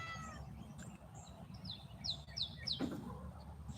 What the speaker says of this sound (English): You heard the kitty?